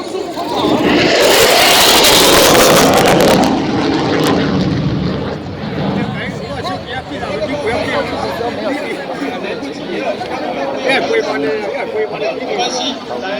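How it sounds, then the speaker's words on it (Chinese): An F-16 fighter jet makes a low high-speed pass at an air base airshow, a loud roaring jet surge peaking early and fading, while an announcer and a chattering crowd are heard throughout. "飞机将为大家带来是低空高速冲跑。"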